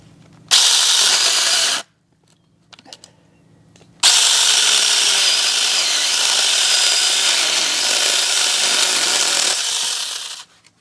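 A SEYVUM battery mini chainsaw cuts through pieces of wood. It gives two loud bursts of steady buzzing, a short one and then a long one lasting about six seconds, with quiet handling noises in the gap between them.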